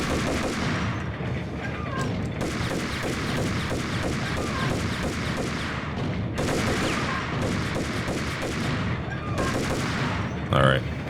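Dense gunfire rattles almost nonstop in the 2001 PC shooter Max Payne, rapid overlapping shots forming loud bursts and volleys, with a heavier thud near the end.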